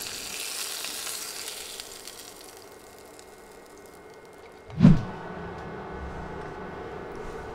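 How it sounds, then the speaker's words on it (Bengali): Fish heads frying in a pan for a masoor-kalai dal dish give a steady low sizzle, with one sharp clatter near the middle. "দেখুন আমি 3-4 মিনিট ভালোভাবে ভেজে নিয়েছি।"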